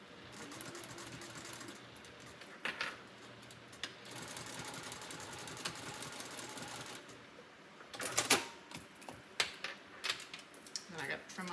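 A sewing machine stitches a liner for a Longaberger road trip basket in short, rapid runs broken by pauses. The machine sounds soft and close, and quiet talk can be heard between bursts.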